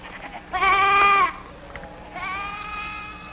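Sheep bleat twice: a loud, wavering bleat near the start and a second, softer drawn-out bleat toward the end, with no voices.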